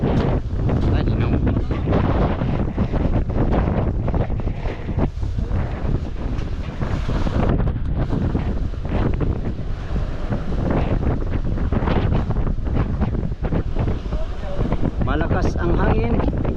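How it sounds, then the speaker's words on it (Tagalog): Strong wind buffets the microphone with heavy roaring gusts while big waves wash and slap nearby in the West Philippine Sea, continuous and loud throughout. "Malakas ang hangin, malaki ang alon."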